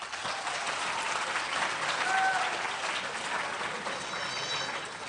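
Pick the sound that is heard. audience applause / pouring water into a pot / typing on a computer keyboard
audience applause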